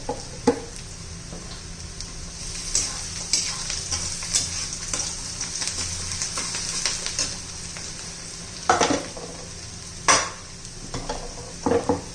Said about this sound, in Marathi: ट्रान्सपरंट होईपर्यंत परतून घेऊ थोडासा कलर चेंज झाला पाहिजे